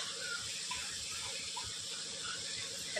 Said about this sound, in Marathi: आणि नंतर ना पाणी टाकायचं आपल्याला